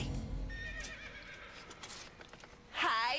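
A horse whinnies loudly near the end after quieter background noise and faint clip-clop, the neigh rising sharply and close.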